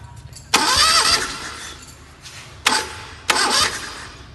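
A light car's engine is cranked by the starter during a compression test, three loud close cranking bursts with grinding whirs and gaps between them, no voices.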